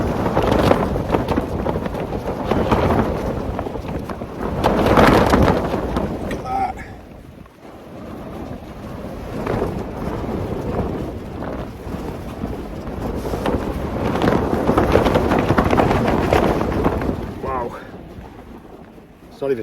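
Strong gusts buffet a tent pitched for a solo wild camp in the Lake District, roaring in loud continuous waves that swell and ease, with brief voices now and then under the wind.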